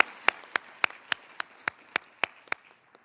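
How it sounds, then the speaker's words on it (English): Sparse applause for the speakers at a cyber stability conference panel, about a dozen distinct, evenly spaced claps from a single pair of hands, fading toward the end. "join me in a round of applause for our speakers today for sharing with us their expertise"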